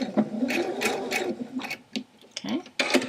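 A home sewing machine stitches denim on a jeans-refashion hip bag, running in short close bursts of rapid clattering and whirring, stopping and starting briefly.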